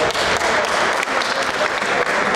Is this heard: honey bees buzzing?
no